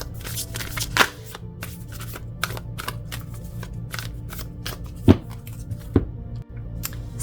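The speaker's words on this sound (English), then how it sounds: "Let me do a little shuffle and we'll call them in." Tarot cards are shuffled close up in quick, repeated riffles, with a few sharper taps and clicks mixed in.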